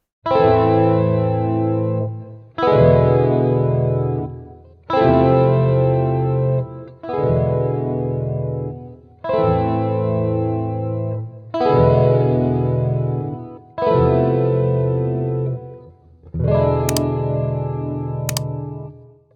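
Electric guitar with distortion and chorus effects strums chord after chord, each ringing out and decaying, in a steady repeating pattern with no voices.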